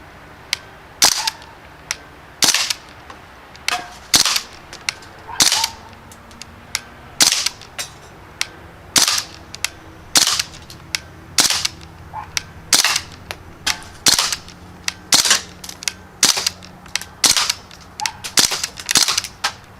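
A Crosman Panther Arms DPMS BB rifle fires about two dozen sharp, close, cracking shots in an uneven rhythm, with short gaps of around half a second to a second between them and no voices.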